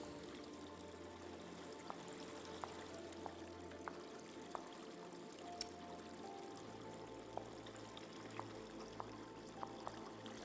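Water pours in a steady stream in The Expanse Telltale Series game, a soft continuous flow with low rumbling beneath and faint, regular clicks at intervals; no talk.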